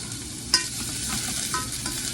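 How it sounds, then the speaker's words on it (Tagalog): Garlic dropped into hot oil in a pan for a creamy pasta, sizzling steadily with a sharp crackle as it lands and faint stirring scrapes, close and alone without talk. "Mainit na ang ating oil, ilagay natin ang garlic."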